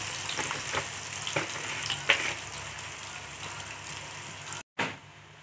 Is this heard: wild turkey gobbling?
no